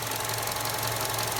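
A Chevy car engine idles steadily to warm the coolant to operating temperature, giving a loud, continuous low rumble with a faint knocking texture and no talking.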